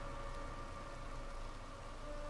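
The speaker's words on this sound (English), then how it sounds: "The rain is from the tree." Rainfall in the Western online game Red Dead Online, a continuous dense hiss with a low rumbling bed and faint tonal hum underneath, steady throughout with no speech.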